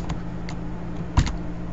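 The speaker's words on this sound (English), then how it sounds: "I've actually got to type an equal sign." A handful of soft, separate key presses on a computer keyboard sound close by, with one firmer tap near the end, over a quiet hum.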